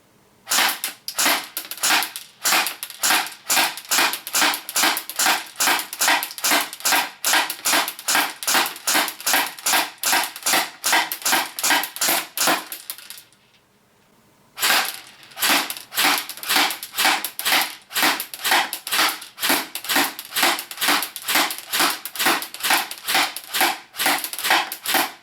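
KWA TK45 Ronin airsoft pistol firing a long string of sharp, evenly spaced shots at a target 10 meters away, loud and close, with one brief pause midway before the rapid shooting resumes.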